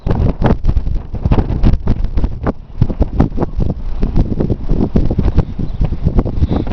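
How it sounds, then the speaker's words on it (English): Strong wind buffets a microphone outdoors in an open field under a building storm cloud, a loud, continuous low rumble with gusty thumps and no voices. "That's why the wind's coming in from behind me."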